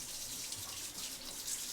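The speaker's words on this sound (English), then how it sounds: "First I'm going to rinse this a little bit." Running tap water pouring steadily into a sink as hands are rinsed while making a pizza, a soft, constant hiss at low volume with no voices.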